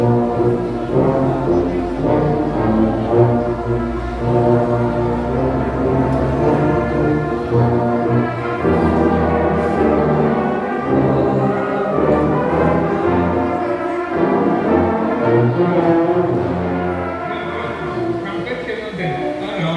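Brass trio of horn and trumpet in a summer band workshop plays a sustained, full-bodied passage, loud and close throughout with no talking.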